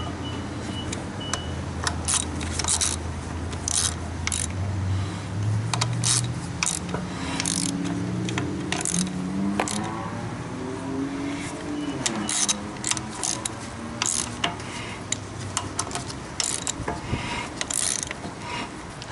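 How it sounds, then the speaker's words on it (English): A 15mm socket ratchet snugs down CV axle bolts on a GMT-900 Chevy/GMC/Cadillac truck, with quick bursts of close, clicking ratchet strokes over a steady background hum. "Take a 15mm socket and just snug them down."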